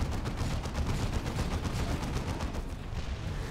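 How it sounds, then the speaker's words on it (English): Lascannon fire from a Dawn of War 2: Retribution 2v2 match against Terminator units, heard as a dense, continuous barrage of repeated blasts and rumbling battle noise throughout, with no talk. "Those las cannons doing chunks of damage to those Terminator variants"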